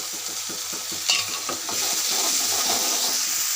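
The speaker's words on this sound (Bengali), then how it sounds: "এখন আমি এখানে রসুন আর পেঁয়াজ দিয়ে দিচ্ছি বাটা।" Garlic and onion paste frying in a pan over lightly browned onions, with a steady close sizzle and scraping stirs of a spoon, the sizzle swelling louder midway through.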